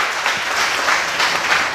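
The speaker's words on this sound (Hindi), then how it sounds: "यहां तालियां चाहिए, थोड़ा जोश से" An audience at a religious talk breaks into brief, loud applause that forms a dense, even wash of clapping from start to finish.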